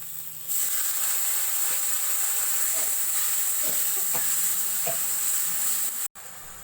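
Pomfret cooks in mustard oil with a little water in a pan, giving a loud, continuous sizzle and hiss with faint stirring clicks, cutting out abruptly near the end.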